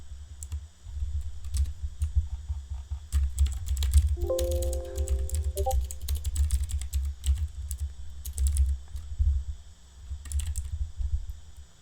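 Fingers type a password on a computer keyboard, with scattered quick key clicks over a low steady hum and a short run of electronic beeps partway through.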